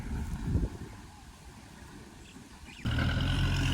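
A four-cylinder Kubota L5018SP tractor engine runs with a steady, low mechanical drone, which grows louder and rougher near the end, while plowing under rice stubble.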